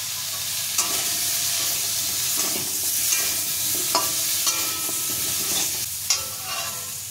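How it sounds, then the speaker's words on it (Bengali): Mango pieces with salt and turmeric being stirred and fried in a pan: steady sizzling with intermittent scraping and clinking of the spatula, close and alone. "আবারও নেড়ে চেড়ে নিচ্ছি।"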